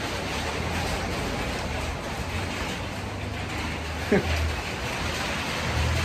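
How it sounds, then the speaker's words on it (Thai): Steady rain falls as a continuous broadband hiss that holds an even level throughout, with one brief soft thump partway through. "ฝนตกแล้วพี่น้อง"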